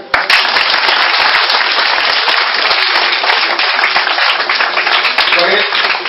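A church congregation applauds with dense, continuous clapping that fills the room, loud and close, with voices mixed into the noise.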